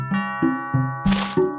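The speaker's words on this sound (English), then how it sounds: "Some birds get very nervous when they hear a doorbell." A doorbell chimes in a steady run of clear electronic two-tone notes, close and loud, with a short burst of noise near the end.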